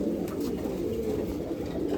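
A Girdan pigeon hen and nearby loft birds give a continuous low cooing murmur, steady and moderately close, with no talk during it.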